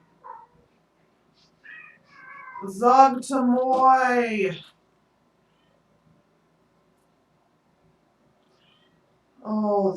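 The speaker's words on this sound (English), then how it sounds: "Oh, this kitten." A kitten meows in a few short calls early on, then gives a louder, longer stretched cry in the middle; after a silent gap, another meow comes at the very end. A person speaks briefly.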